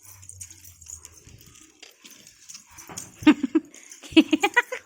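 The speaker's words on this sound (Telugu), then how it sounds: "కుక్క పిల్ల" A puppy whimpers softly at first, then gives a burst of sharp, high yips and little barks close to the microphone, growing louder in the final seconds.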